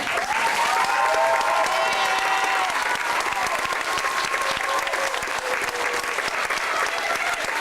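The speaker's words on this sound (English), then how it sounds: "Let's give 2 people's worth of thank yous and applause for Mary Kay and for Hank" Dense, steady audience applause at a school production, thanking two people, loud and sustained throughout with a faint crowd murmur and occasional whistle-like tones.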